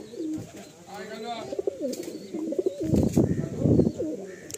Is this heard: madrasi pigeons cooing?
yes